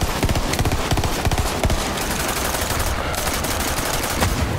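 Rapid gunfire from a legendary weapon in the looter-shooter video game Borderlands 3, loud and close: a dense, continuous stream of fast shots with brief breaks, dominating throughout without talk.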